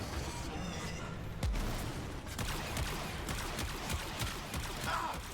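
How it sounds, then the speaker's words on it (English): Rapid gunfire from a Warframe firefight, a dense volley of loud overlapping shots with a heavy boom near the start, continuing as steady crackling bursts under game noise. "Why are you shooting at me?"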